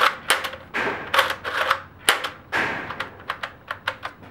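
A Nerf N-Strike Elite XD Crossbolt blaster being primed and fired several times, giving sharp plastic clacks and snaps, first in irregular bursts and then in a quicker run of light clicks, close by with no talking.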